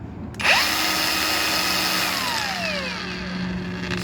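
A Keelat KAG05S angle grinder runs steadily at its second speed, spinning up sharply and then holding a loud, continuous whine with a faint sweeping tone, heard alone with no voices.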